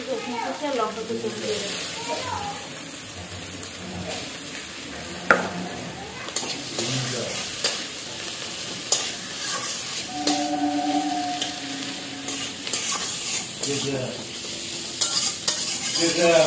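Chopped onion and dried red chilli frying in oil while being stirred, a steady sizzle with repeated scraping and clinking of a spoon in the pan, and a voice talking over parts of it.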